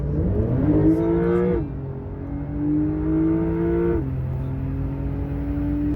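A Porsche 911 Carrera GTS accelerates hard from 50 to 100, its engine note climbing steeply in pitch, dropping sharply at two gear changes, then rising again, loud and close throughout.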